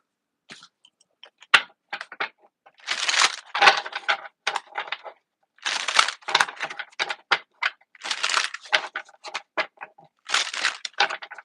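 Cards riffled and bridged in repeated bursts, crisp papery fluttering with short pauses between shuffles, close and fairly loud, no talking.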